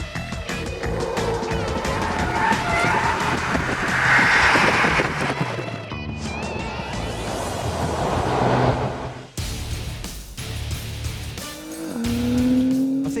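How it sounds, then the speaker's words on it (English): Performance car pushed to the limit on a racetrack, engine roaring and revving as tires squeal loudly through long skids, the pitch rising and falling with a brief drop before the squeal returns. "push the car right to the limit in a safe and controlled environment, and to do some skids"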